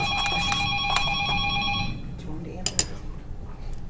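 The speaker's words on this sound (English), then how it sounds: "We have a phone going off, which is rather strange." A telephone rings with rapid bell-like trills in a hotel suite for about two seconds, then stops, leaving a quieter room with some brief clinks and a faint voice.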